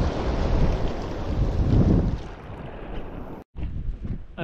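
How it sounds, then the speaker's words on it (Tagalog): Strong wind buffets the microphone at a fishing spot by the water, a loud continuous rumble that eases after a couple of seconds, briefly cuts out, then gusts again. "Bali mahangin na"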